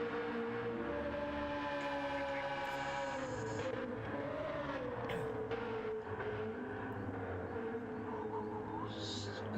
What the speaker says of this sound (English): look at this car as it comes through